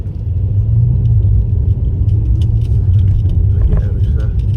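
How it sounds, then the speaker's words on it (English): A Mercedes E63 AMG engine warming up in comfort mode, a heavy low rumble idling steadily under light road noise, close and continuous. "I'm in comfort mode, letting the engine warm up"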